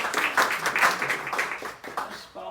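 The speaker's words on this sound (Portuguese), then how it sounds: "As palmas significam a memória de um grande escritor." A small audience claps in tribute to a writer, a soft, uneven patter of hands that fades out toward the end.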